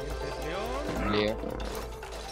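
A growling lion roar from the video game It Takes Two, rising and falling over about two seconds at moderate loudness, with people talking over it.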